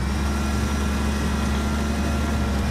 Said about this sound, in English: It's a lot of tractor noise.